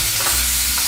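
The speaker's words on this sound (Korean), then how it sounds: "이 다진 소고기를 볶으실 때는 이렇게 깨주시면서 볶아야 돼요." Minced beef fries in a hot, lightly oiled pan as topping for rice cake soup, a dense, steady sizzle that is loud and close throughout.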